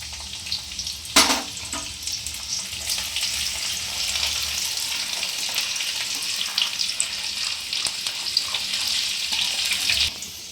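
Chopped garlic fries in hot oil as the base for a restaurant-style chilli chicken gravy, giving a steady close-up sizzle with a brief burst of splattering near the start and light scraping throughout.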